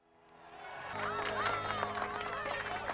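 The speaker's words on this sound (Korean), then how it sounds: "피터의 첫 승에 모두가 박수갈채를 보내죠." A crowd in a film scene applauds and cheers a first victory, the clapping swelling in after a second and continuing under a bed of music.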